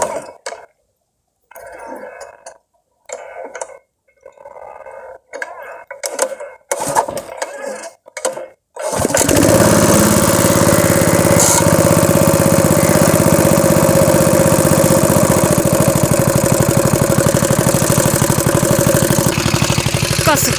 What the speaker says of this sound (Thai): เดี๋ยวเราไปสตาร์ทเครื่องก่อนนะครับ